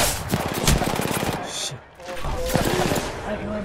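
Rapid automatic gunfire from Apex Legends rattles close and loud in dense bursts, broken by a short lull, with voices and game effects mixed in.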